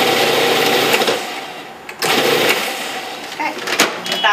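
A food processor chops spring roll filling in loud, steady bursts that pause briefly around the two-second mark, then whir again with rattling, uneven pulses.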